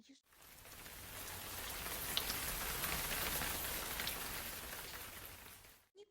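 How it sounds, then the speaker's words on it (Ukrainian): Heavy, sudden rain downpour: a dense, steady hiss of drops pattering on a surface, swelling in quickly and fading out after a few seconds, with no voices. "А тут раптом дощ припустив, наче з відра линув."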